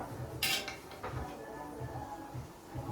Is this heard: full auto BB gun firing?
no